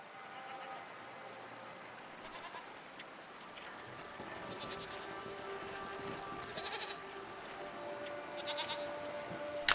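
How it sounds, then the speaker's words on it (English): Goats bleat in a video game, a few thin wavering calls rising over a low rumbling background, one cry in the middle stronger than the others, with no voices present. "What are these strange goat-like creatures? Are they simply goats?"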